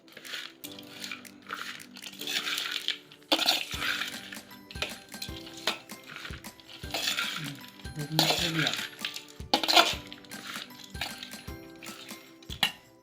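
Girmit, a puffed-rice snack with peanuts and lemon juice, gets mixed by hand in a metal bowl, a run of scattered clinks, rattles and scraping stirs coming in uneven bursts, close and clear.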